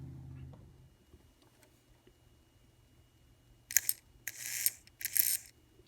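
Small electric motor of an Atlas N scale RS11 model diesel locomotive, in short high-pitched whirring bursts near the end, close and fairly loud after a quiet start.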